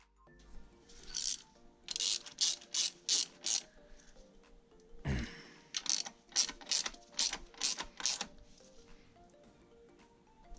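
A ratchet wrench with a 12mm socket clicks in quick rhythmic runs of strokes while tightening a bolt on a DR350 motorcycle, close and fairly quiet, broken by a single dull knock midway.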